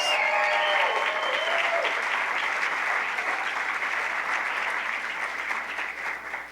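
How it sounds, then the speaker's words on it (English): An audience at a club gathering claps in a steady, full round of applause for an Olympic team member, holding even and then easing slightly near the end, with no one speaking. "So give her a round of applause, please."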